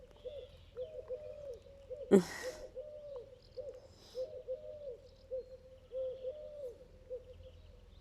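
Several birds, likely pigeons, coo outdoors in a steady low repeating pattern, with a brief loud burst near the start and soft background noise; a short laugh is heard.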